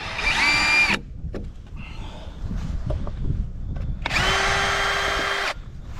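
Power drill driving fasteners into roof rafter boards during a rafter system build for ceramic tile roofing; two loud whining bursts, near, at the start and again after a pause filled with light outdoor noise.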